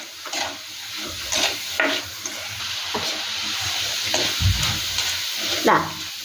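A dried shrimp curry base sautéing in a pan for a Kerala theeyal, steady sizzling broken by several scraping stirs and a few knocks of the spoon, close and fairly loud.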